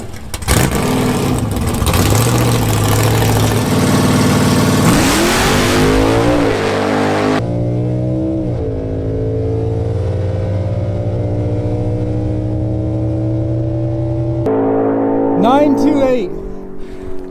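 A 6th gen Camaro makes a drag racing pass, loud engine roaring and revving hard through the gears, then easing off and fading, with brief voices near the end.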